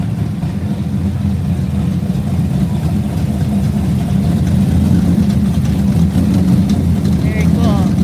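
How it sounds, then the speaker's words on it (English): Several classic cars idle together at an outdoor car show in Glendora, California, a steady low engine rumble running throughout with wind buffeting the microphone and some voices in the background. "Hear the engines."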